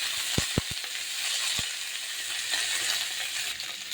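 Pointed gourd peels sizzling in hot oil in a pan, a steady bright frying hiss with a few low thuds as pieces drop in near the start, no voices.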